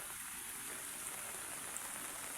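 Floodwater from a street flooded around midnight rushes steadily into a gutter beside a canal, making a dense, continuous hiss and wash with no breaks.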